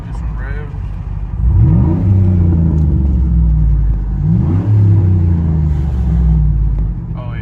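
A Cadillac Escalade with its muffler deleted revs loudly up close, the engine rumble climbing in two strong surges before settling back to a deep idle, with a voice briefly audible over it.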